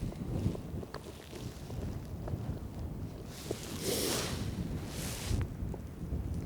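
Wind on a golf course, a continuous loud buffeting rush across the microphone with gusts swelling in the middle, alone without talk.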